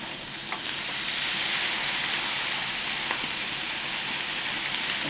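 Seasoned mixed vegetables, carrot and cabbage, fry in a pan with a steady, close sizzle and hiss that swells after the first second and holds without pause.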